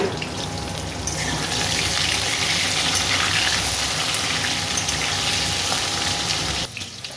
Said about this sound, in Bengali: কুমড়ো আলু ভাজা হয়ে গেছে